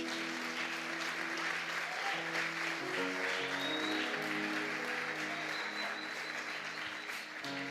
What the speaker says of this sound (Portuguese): aqueles que é grato pelo sacrifício de Jesus, aplauda ao Senhor nessa noite.